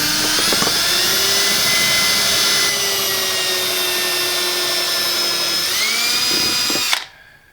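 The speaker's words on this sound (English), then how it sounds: "and then drill your hole" Power drill boring a hole through wood, running at a steady loud high whine for about seven seconds with a slight pitch dip near the end before it cuts off abruptly.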